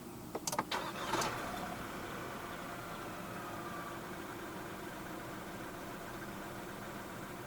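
A 2024 Proton X50 1.5 TGDi car engine, started by push button, cranks over with a few quick clicks and catches, then settles into a steady low idle hum.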